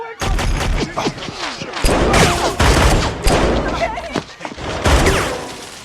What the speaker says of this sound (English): McGrath shoots him on his head